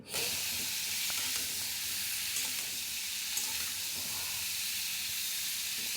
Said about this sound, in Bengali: এবার কপিটাকে ভালো করে ভেজে নেওয়া হবে